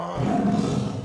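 A short, low, rumbling roar like a big cat, delivered as one sustained growling burst, close and fairly loud; it sounds like a human voice imitating a tiger.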